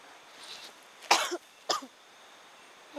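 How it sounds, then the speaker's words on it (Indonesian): Two sharp coughs close to the microphone, about half a second apart, in an otherwise quiet room. "Maaf teman-teman, saya sedikit batuk."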